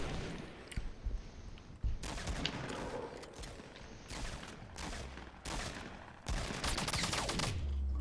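Rapid automatic gunfire in a shooting video game, with sustained bursts that come again and again, loud and dense, separated by brief gaps of rumbling noise.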